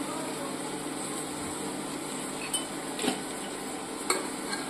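Quiet, continuous sizzling from a pan with occasional scraping taps of a spoon as vegetables with chili powder and salt are stirred, a low hum underneath.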